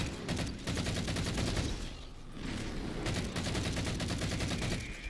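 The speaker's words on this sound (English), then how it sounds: "This is a really good assault rifle" Rapid, sustained automatic fire from an MA5 assault rifle in the first-person shooter Halo 4, with dense repeated shots running nearly the whole time and one brief lull in the middle.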